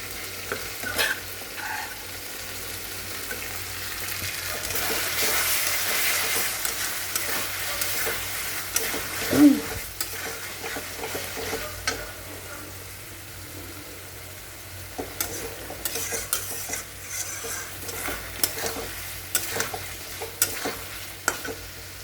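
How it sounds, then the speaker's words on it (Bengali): Cut potatoes frying crisp with salt and turmeric in a pan, a continuous close sizzle with frequent stirring clicks and scrapes of a utensil, one sharper knock midway. "লবণ হলুদ দিয়ে একদম মুচমুচো করে ভেজে দেবো এটাকে।"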